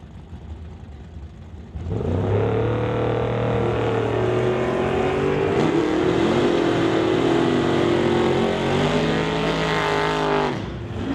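Daryl Tippy's Chevy II Nova, the Transporters Logistics Nova, at an NHRA Summit ET drag race: a loud, steady engine roar starts sharply and holds at high revs for about nine seconds before cutting off, with no talking.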